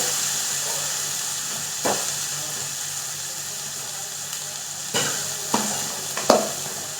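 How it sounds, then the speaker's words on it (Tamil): Potatoes sautéing in a pan over a low flame for an aloo methi dish, a soft steady sizzle with a few scraping stirs of a spoon at intervals. "இதில் இந்த உருளைக்கிழங்கு போட்டு அடுப்பை சின்னது பண்ணிட்டு வதக்கிட்டு"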